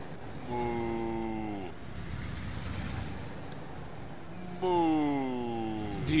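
Video game cattle give two long, drawn-out moos, one near the start and one near the end, with a quieter outdoor background between them.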